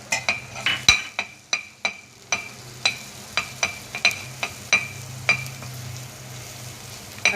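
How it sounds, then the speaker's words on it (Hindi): Chopped garlic sizzles in butter in a pan while a white sauce is started, a steady low frying hiss broken by a series of sharp metallic clicks and taps of a spoon stirring against the pan. "अब इसके अंदर हम ये लहसुन, चॉप किया हुआ लहसुन ऐड कर रहे हैं।"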